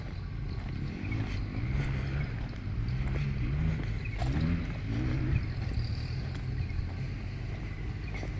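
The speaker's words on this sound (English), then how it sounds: "Old mate's got his tractor going" An old tractor idles nearby with a low, steady engine rumble that holds constant throughout, with no voices over it.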